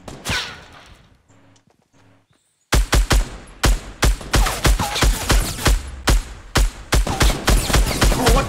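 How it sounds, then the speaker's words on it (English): Gunfire in Fortnite, opening with a faint burst, then a short silence and a long run of loud, rapid rhythmic shots, each crack sharp and close, firing almost continuously. "Oh, that's you shooting at them"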